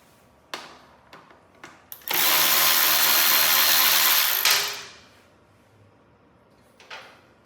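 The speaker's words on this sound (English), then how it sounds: "there is a 10mm bolt on this side that needs to be removed" A power tool removes a 10mm bolt on a KTM 450 SX-F, one loud burst of whirring lasting a couple of seconds, framed by light clicks and taps of handling before and after.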